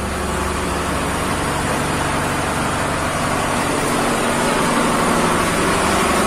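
Heavy engine running steadily at close range during the unloading of thousands of tonnes of crude palm oil cargo, a dense, unbroken roar with a low rumble and no pauses.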